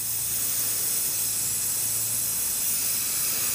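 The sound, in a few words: spray paint hissing during hydro dipping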